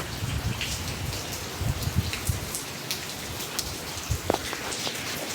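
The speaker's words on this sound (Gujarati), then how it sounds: "તો આવો વરસાદ હે" Steady rain falls outdoors in Batva, a continuous dense hiss of drops hitting surfaces with scattered louder splats, no voices.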